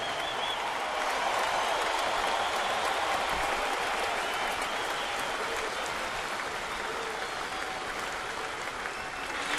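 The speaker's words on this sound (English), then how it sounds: "Let's have a warm round of applause" A large crowd applauds steadily for nearly ten seconds at a Blue Jays baseball stadium, a dense wash of clapping with faint cheering, heard from within an open, echoing space.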